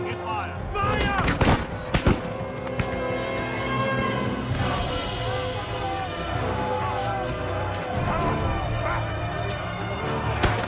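Volley of gunfire in a battle scene from an action adventure film, with sharp repeated shots and booms over a dense, continuous score and shouting voices.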